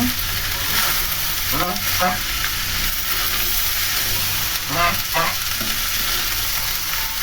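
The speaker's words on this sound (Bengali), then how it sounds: "পেঁয়াজ রসুনগুলো ভাজা শেষ, তারপরে আমি চাল আর ডালটা দিয়ে আবার সুন্দরভাবে ভেজে নেব।" Rice and lentils fry with onion and garlic in a pan, giving an even, loud sizzling hiss throughout, broken twice by quick scraping stirs of a spatula.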